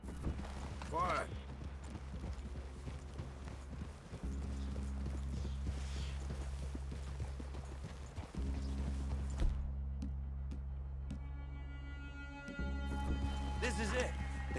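Horses clip-clop at a trot in the video game Red Dead Redemption 2, a steady rhythmic hoof patter running throughout at modest volume, with low voices talking over it and brief pauses in the beat.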